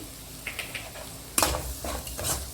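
Egg fried rice ingredients with soy sauce and vinegar are stirred in a pan, giving a few scattered scraping and clinking strokes of a spatula against metal, with a louder scrape midway and soft sizzling in between.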